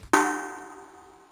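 A single bright metallic ding from Five Nights at Freddy's, struck once and ringing out with a clear tone that fades over about a second.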